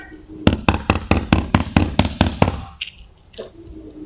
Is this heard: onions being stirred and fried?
no